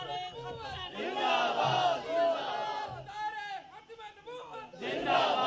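A large crowd at an Urs gathering shouts a religious slogan in unison without a microphone, loud and close, rising in repeated waves of massed voices.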